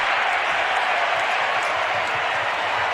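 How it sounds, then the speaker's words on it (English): A basketball arena crowd at an NBA game cheering after a missed shot, a broad, steady roar of many voices and clapping filling the space at even loudness. "there was a cheer there because they just won free yogurt by that miss"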